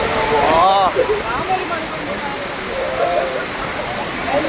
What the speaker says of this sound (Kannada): ಗಾಳಿ ಮಳೆ ಅದು.